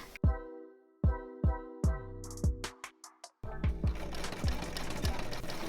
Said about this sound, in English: You need to sew it with a zigzag stitch